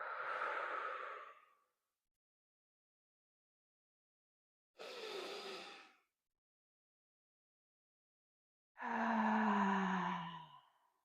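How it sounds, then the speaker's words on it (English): Deep yoga breaths, in and out, come as three separate, soft, airy puffs spaced apart by silence, the last one fuller and longer. "take 3 deep breaths right here"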